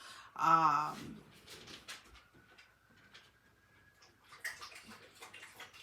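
Water splashing in a wine glass as it is set down, a short, fairly loud burst near the start, followed by quiet room sounds and faint scattered noises.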